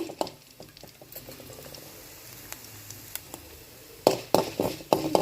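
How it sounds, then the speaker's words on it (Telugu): Coriander seeds and fenugreek roast in oil over low heat with faint, scattered crackles and pops. Sharper, louder popping and stirring bursts come near the end. "ముందుగా తీసి పెట్టుకున్న ధనియాలు, మెంతులు అనేటి ఈ ఆయిల్లో వేసుకుంటున్నాను"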